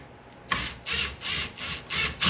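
Drill drives a countersinking fastener into the wood of an Adirondack chair: after a short lull comes a run of five or six loud, close, bursting whirs with brief gaps between them, ending in a final hard push.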